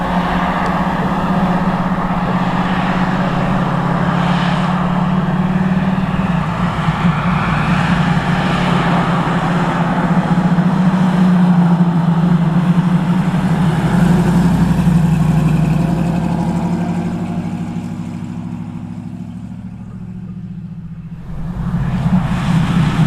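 A classic Chevy Camaro engine runs steadily at idle, a close, loud low rumble that holds for about twenty seconds, eases briefly, then swells again near the end.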